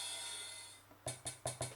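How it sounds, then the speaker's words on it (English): Open hi-hat sample played from a Novation Circuit Tracks groovebox, four crisp metallic hits in a steady rhythm, each with a short airy decay, after a quiet stretch of faint hum. "if I go to an open hi-hat, normally it sounds like this."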